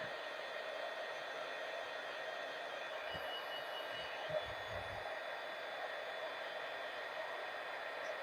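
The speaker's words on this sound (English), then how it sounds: "I'm just going to heat emboss the way that I would normally heat emboss when I stamp with embossing ink" A heat embossing gun blows hot air over embossing ink on a stamped ornament, a steady broadband whoosh holding even and fairly loud throughout with no talking.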